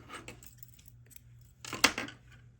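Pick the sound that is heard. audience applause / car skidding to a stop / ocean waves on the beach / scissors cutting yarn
scissors cutting yarn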